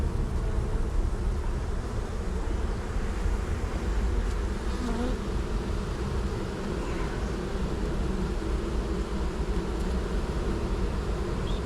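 Honey bees hum steadily around an opened hive frame, a dense, close, continuous buzz that holds at an even level throughout with no talking.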